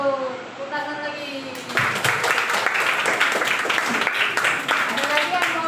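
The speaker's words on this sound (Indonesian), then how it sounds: "Tepuk tangan lagi." Classroom applause from fifth-grade students, a dense patter of many hands clapping that swells after a spoken prompt and carries on steadily, with voices talking over the start.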